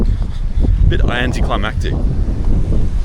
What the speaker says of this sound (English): it's real windy here today